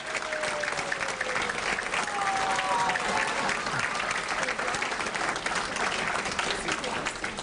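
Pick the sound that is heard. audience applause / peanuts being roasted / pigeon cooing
audience applause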